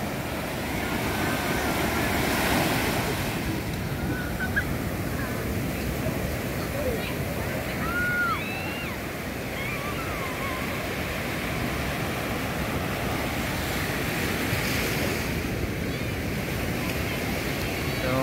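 Large surf at Bucana beach, Nasugbu, Batangas, a continuous broad rumble of waves breaking nearby with swells in intensity, while a few faint voices and chirps sit in the background.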